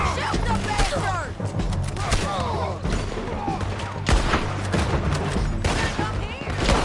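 Rapid gunfire in the Red Dead Redemption video game, dense overlapping shots and booms running continuously with shouting voices in the mix.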